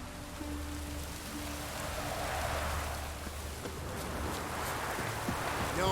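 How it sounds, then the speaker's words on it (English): Rain pours steadily in the video game The Witcher 3, a broad even wash of drops on surfaces with a low rumble beneath and occasional faint ticks, and nobody speaks. "No use doing any work in this rain."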